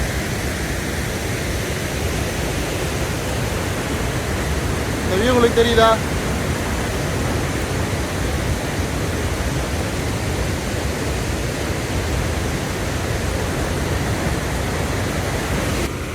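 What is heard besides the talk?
Athirappilly waterfall, rushing water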